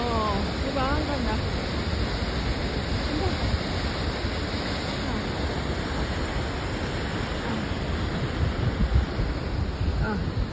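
Crescent Falls waterfall, a broad, constant roar of falling water that fills the whole clip at steady loudness, with faint chirps near the start and no clear talking.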